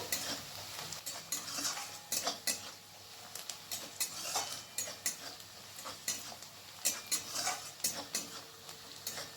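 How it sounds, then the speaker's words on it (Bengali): Onions fry in a pan for a chana dal, a quiet sizzle under repeated scraping and clinking of a spoon stirring against the pan in irregular bursts, with no talk. "পেঁয়াজটা যেহেতু এখানে লাল লাল করে ভাজবো, তাই একটু সময় ধরে পেঁয়াজটাকে ভাজতে হবে।"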